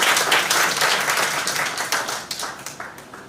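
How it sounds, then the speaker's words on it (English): An audience at a high school debating competition breaks into loud, dense applause that starts at full strength and then thins out over a few seconds into scattered individual claps. "Might we have a round of applause for Mr."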